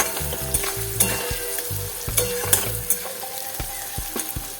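Chopped onion and garlic frying in oil with a little salt, a bright continuous sizzle broken by repeated scraping stirs of a spatula in the pan, close and clear without talk.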